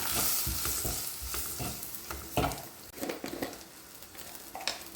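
Spices sizzling and frying in a pan with scraping stirs of a spatula, steady crackle that softens partway through, close up.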